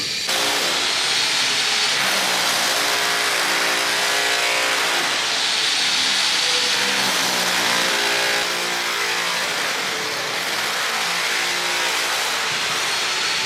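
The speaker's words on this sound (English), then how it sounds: "as you can hear the construction happening" Steady loud construction machinery roar aboard a cruise ship, with hissing and rumbling engine noise, constant throughout, like heavy work equipment running nearby; no speech.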